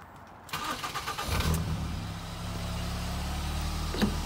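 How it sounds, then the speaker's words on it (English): A Ford Fiesta ST150 engine cranks briefly and catches, then settles into a steady, fairly quiet idle nearby. "So we're going to start her up,"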